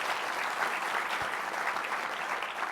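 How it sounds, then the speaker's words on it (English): An audience at an IOP political talk with former Housing and Urban Development Secretary Julian Castro gives a big round of applause, dense, steady clapping from many hands, loud and continuous throughout with no speech over it. "Let's give the IOP a big round of applause"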